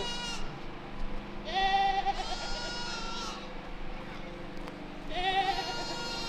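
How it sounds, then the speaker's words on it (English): Goats bleat several times, loud wavering cries rising over a busy background with a murmur of other noise. "We got some goats over here?"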